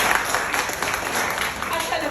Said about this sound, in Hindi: एक और ताली बजा दो प्लीज